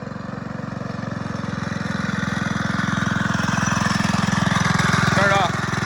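A mini bike's small engine runs steadily at high revs during a speed run, its buzzing drone growing slightly louder and holding close throughout with a brief pitch wobble near the end.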